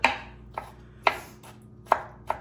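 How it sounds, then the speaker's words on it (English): A knife chops onion on a board for potato salad: five sharp, separate cuts spaced about half a second apart, close and crisp, with no talking. "Go through here and just really chop this up, okay?"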